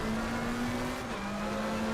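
A Porsche GT3 race car in a racing game at Imola, its engine a loud, steady close drone that drops in pitch midway as it brakes late into a corner.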